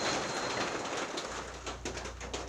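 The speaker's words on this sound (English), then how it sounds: "the rain is still raining, but it's started to lighten up just a little bit here" Steady rain falls outside a workshop during repairs to a John Deere LA135 lawn tractor, a dense, even hiss with scattered patters and drips and a low hum joining partway through, no talking.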